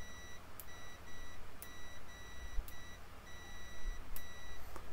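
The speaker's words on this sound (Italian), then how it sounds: "Facciamo la prova unendo i due puntali e emetterà un beep." A multimeter's high continuity beep sounds repeatedly in short bursts as the two probes are touched together, separated by sharp clicks, over a low background rumble.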